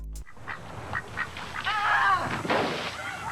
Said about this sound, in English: an ad that Aflac launched featuring the duck we all know and love made its way onto our television